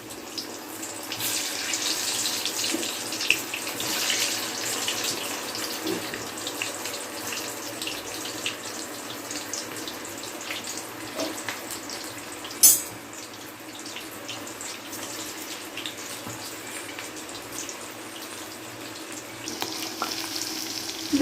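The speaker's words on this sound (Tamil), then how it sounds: "அதில் இந்த வாழைக்காயை கொஞ்சம் கொஞ்சமாக போட்டு பொரிச்சு எடுத்துக்கலாம்" Raw plantain slices sizzle in hot oil in a Karaikudi-style kitchen, a steady bubbling hiss with scattered crackles and one sharp pop, no talking.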